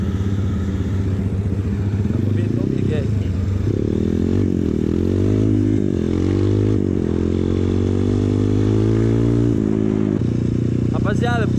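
A Honda CRF 230 dirt bike accelerating along a dirt road, its engine rising in pitch through several loud, close revs with a steady droning hum and some rattling clatter.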